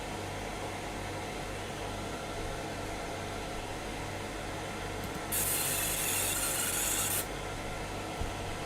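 Fiber laser marking a part, a faint steady machine hum that suddenly gives way to a bright hissing buzz lasting about two seconds before dropping back to the quiet background hum.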